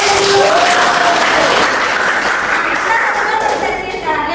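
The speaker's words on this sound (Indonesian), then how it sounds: "Oke, tepuk tangan." Lively applause from a classroom full of people, steady clapping throughout with a few voices faintly mixed in.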